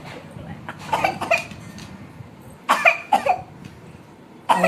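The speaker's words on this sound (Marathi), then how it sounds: "आजीला लय खोकला लागलाय हो" An elderly woman coughs in several short clustered bursts, fairly close, with quiet room noise between the fits.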